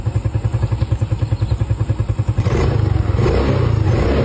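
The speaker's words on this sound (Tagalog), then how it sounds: "meron po akong binebentang motor." A motorcycle for sale idles with a fast, even thumping pulse, then revs up into a louder, continuous roar close by, with some mechanical clatter.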